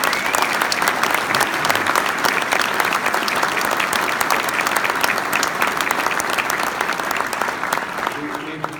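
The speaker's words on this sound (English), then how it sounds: "I'd like to give her a big round of applause" An audience at a Tennessee Golf Hall of Fame induction ceremony gives the curator a big round of applause: loud, dense, continuous clapping that holds steady for about nine seconds before tapering slightly.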